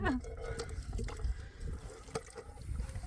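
Water runs steadily from a double tap into a 7-litre jug at a wild campsite in Boa Vista, Rancho Queimado, with a continuous close splashing and filling wash and faint voices in the background.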